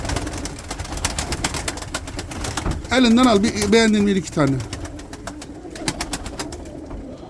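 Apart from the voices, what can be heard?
pigeons cooing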